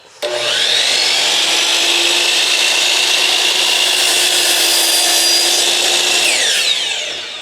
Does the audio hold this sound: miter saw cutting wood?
yes